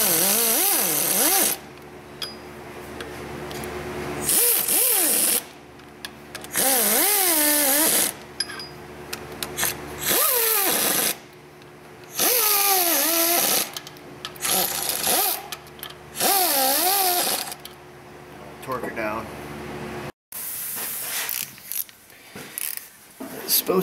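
A tool snugs up the water pump bolts on a Subaru EJ25D 2.5 DOHC engine. It gives repeated short bursts of whirring and ratcheting, with rising pitch sweeps and brief pauses between, loud and close.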